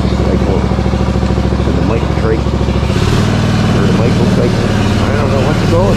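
Engine of a homemade trike running steadily while riding, a loud continuous motorcycle-like drone with a deep low rumble that shifts pitch partway through as the throttle changes; a voice talks over it.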